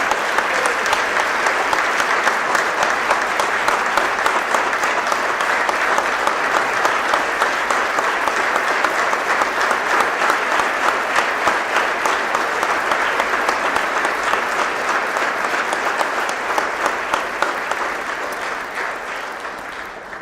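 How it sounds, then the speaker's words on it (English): A banquet hall crowd at a fire department awards dinner breaks into dense, sustained applause that stays loud for about twenty seconds before tapering slightly at the end. "Please join me in a round of applause for our hero, Chaplain Ochoa"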